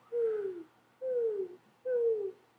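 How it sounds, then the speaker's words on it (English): A bird calls three times in a steady rhythm, each a clear, close, falling hoot-like note about a second apart, with no talk over it. "It's a bird!"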